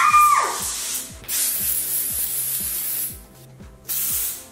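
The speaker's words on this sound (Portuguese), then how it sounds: "Spray de serpentina, gente!" A silly string spray can fires in bursts of loud hissing spray, one long spray then a short pause and another burst, over a repeating background beat.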